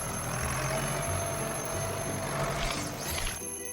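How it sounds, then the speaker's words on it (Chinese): An alarm clock rings in a children's cartoon about emergency vehicles and car repair, a steady bright ringing that holds for several seconds over a dense musical background, then cuts off near the end. "那是你的闹钟在提醒你去休息呢"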